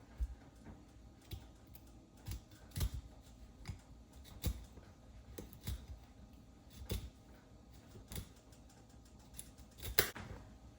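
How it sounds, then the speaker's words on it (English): Broccoli stalks and florets being cut on a board at home, giving a series of crisp, irregular chops and snips spaced a second or so apart, close and moderately loud, with no talking. "Got our broccoli here we're going to cut up."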